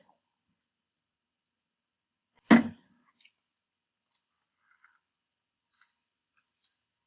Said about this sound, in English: So let me cut a piece. It's a little piece of interfacing.